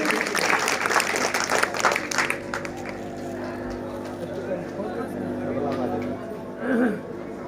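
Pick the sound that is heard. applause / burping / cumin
applause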